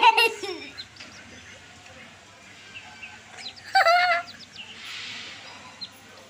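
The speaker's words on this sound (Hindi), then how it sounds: "तो फ्रेंड ये देख सकते हैं मुर्गी के दो बच्चे" Baby chickens give a few short, high-pitched chirps in brief bursts, with quiet voices nearby.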